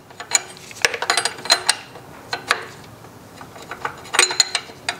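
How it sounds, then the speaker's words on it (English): Soft metallic clicks and ratcheting taps from a wrench tightening the pressure line on a replacement power steering pump, irregular and close, with a faint background hum. "it's time to tighten up the pressure line"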